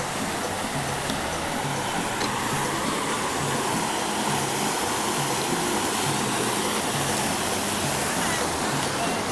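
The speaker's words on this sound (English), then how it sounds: "there's this really pretty fountains ahead of us" Water fountains in Marrakech splash and rush in a loud, steady broadband hiss that continues unbroken, with faint background murmur.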